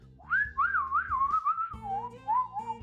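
A person whistles a wavering, warbling melody for about three seconds, loud and close, the pitch sliding up and down in continuous phrases with no one talking.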